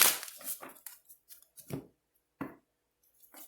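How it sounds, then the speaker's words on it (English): A deck of tarot cards shuffled by hand, giving a series of crisp, papery riffles and slaps in uneven bursts, close and fairly clear, with short silent gaps between them. "We're just going to shuffle it a little bit."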